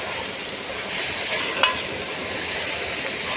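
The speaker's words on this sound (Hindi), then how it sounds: "गोभी मैंने काट कर रखा था वो इसमें शामिल करेंगे, हरी मिर्च, आलू, और अच्छे से करेंगे इसको मिक्स" Steady loud sizzling of cauliflower, potatoes and green chilies frying in a pan for aloo gobi, with a spoon stirring through and one brief scrape, close and continuous without talk.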